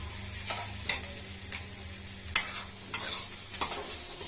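Steady sizzle of onions frying in a pan with several sharp scrapes of a spoon stirring at irregular intervals; no voices.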